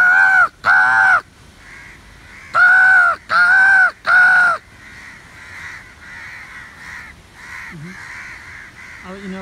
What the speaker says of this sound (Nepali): फेरि बोलाएको छु काग